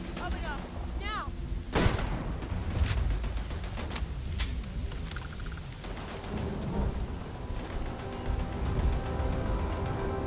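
Automatic turrets firing in the video game Starfield, sharp repeated shots and mechanical clatter over steady combat noise, with a voice speaking briefly among the bursts.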